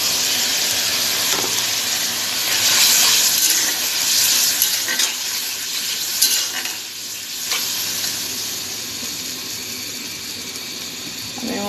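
Onion, ginger, garlic, cumin, turmeric and chili sizzle in a hot pan, a bright steady frying hiss broken by scraping stirs of a spoon, close and continuous without talk.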